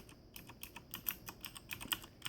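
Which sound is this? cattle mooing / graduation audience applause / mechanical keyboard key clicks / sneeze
mechanical keyboard key clicks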